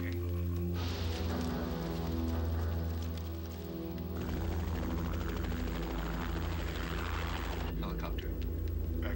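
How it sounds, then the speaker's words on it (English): A helicopter's heavy rotor drone and whine holds steady throughout in a War of the Worlds TV series advert, loud and close, with voices faintly mixed in at moments. "Helicopter."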